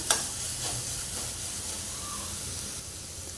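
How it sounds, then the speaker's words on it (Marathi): Ginger garlic paste sautéing in a pan for a Konkani-style crab curry gives off a soft, steady hiss and sizzle, fairly quiet, with a faint clink near the start. "ह्याच्यामध्ये आलं लसूण पेस्ट घालूया आणि परतून घेऊया"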